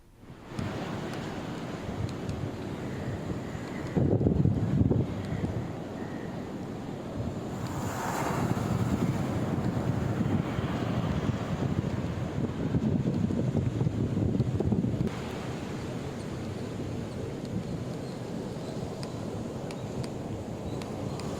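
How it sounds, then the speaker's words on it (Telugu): Strong gusty storm winds blow on the coast, a steady rushing roar that swells in heavier gusts before easing back, with no voices. "అర్ధరాత్రి నుంచి ఈదురుగాలులు వీస్తున్నాయి"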